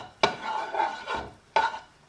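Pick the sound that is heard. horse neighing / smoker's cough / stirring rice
stirring rice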